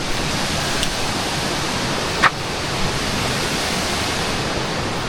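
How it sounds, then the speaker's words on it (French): A waterfall in Bali, seen at a distance near a temple, gives a steady broadband rush of falling water that holds evenly throughout, with one brief sharper sound partway through. "alors là-bas on voit une cascade"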